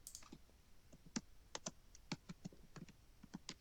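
Typing on a computer keyboard, quick irregular clicking keystrokes close by and fairly quiet, with no voices.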